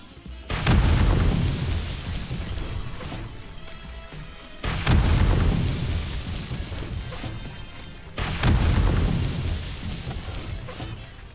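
Three heavy explosions from an upgraded launcher in the survival game 7 Days to Die, each a loud booming blast spaced about four seconds apart with a rumbling decay.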